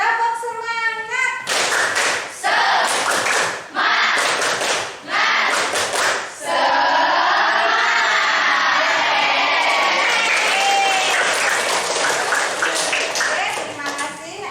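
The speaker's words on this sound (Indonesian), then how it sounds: "mari kita tepuk semangat dulu ya" Schoolchildren in a classroom perform a rhythmic 'tepuk semangat' spirit clap, bursts of loud group clapping in patterned beats separated by short pauses, mixed with chanting voices and cheering.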